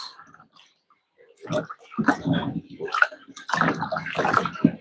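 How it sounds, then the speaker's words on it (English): Peas and maize being washed gently by hand in a bowl of water, with soft irregular sloshing and splashing bursts close up after a quiet start. "We just wash them gently with your hands."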